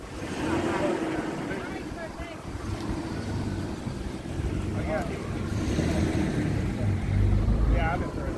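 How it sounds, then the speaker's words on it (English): Strong gusty wind buffeting the microphone outdoors near the water in Virginia Beach, a steady roaring rumble throughout with people talking underneath. "Sorry, it's really windy. Lord. Oh, the wind is taking everything."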